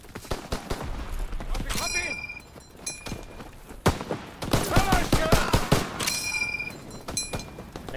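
M1 Garand rifle fire in Call of Duty WW2, sharp loud cracks in quick bursts mixed with other gunfire, reload clinks and thuds, while a voice talks over the shooting.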